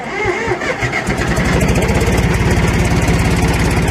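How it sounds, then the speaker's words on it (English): A 1985 John Deere 350C crawler dozer's diesel engine cold-starts: a short cranking whir, then it catches and settles into a loud, steady, rapidly pulsing idle that runs to the end. "So we're going to try to fire up. This is a cold start."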